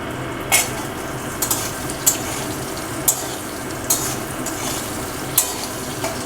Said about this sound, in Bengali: এবারে একটু লঙ্কাগুলো হালকা বাদামি কালারের হয়ে গেলে আমি দিয়ে দিচ্ছি এখানে যে শিম আলু কেটে রেখেছিলাম সেই আলুটা আমি প্রথমে দিয়ে দিচ্ছি।